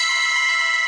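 A short electronic alert chime from a trading platform, a sustained bright bell-like tone lasting about a second, clear and alone with no talking.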